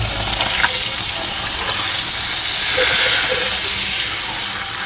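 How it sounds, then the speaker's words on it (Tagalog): Soju pours into a hot pan of pan steak with stir-fry vegetables, giving a steady loud sizzling hiss that swells briefly midway. "lalagyan natin siya ng konting soju kasi wala akong cooking wine"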